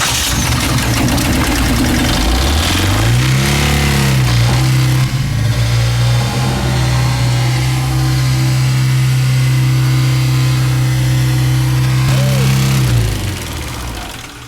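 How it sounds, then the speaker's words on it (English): Engine of a Ford 6.7 Powerstroke or GMC L5P Duramax diesel truck cranking, firing and revving up, then holding a steady loud drone before the throttle eases and the engine drops away, heard close by. "I guess you got to give her a little throttle to get her going"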